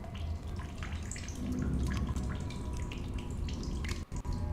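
Water drips and trickles in an outdoor area of the video game The Solus Project, a close, continuous splashing patter with scattered brighter droplets and a couple of brief dropouts near the end.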